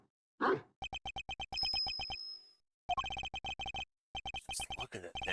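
Small bell tinkling on a creature's neck in the Ace Attorney Investigations 2 game, heard as rapid bursts of bright, evenly spaced metallic rings with brief pauses between runs, fairly loud and close, no talk over it.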